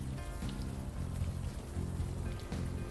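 Steady rain falling in the video game Unavowed, a continuous even patter that fills the scene alone, with no voices over it.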